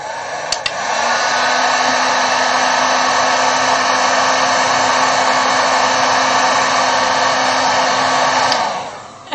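A heat gun blows steadily on a piece of Worbla thermoplastic, a loud continuous whooshing roar with a faint low hum that starts abruptly after a click and runs unbroken for about eight seconds before cutting off.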